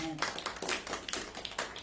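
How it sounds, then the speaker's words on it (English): Church congregation giving a round of clapping during a sermon, quiet and somewhat distant, with uneven bursts of claps recurring every fraction of a second. "Let's give God a clap out."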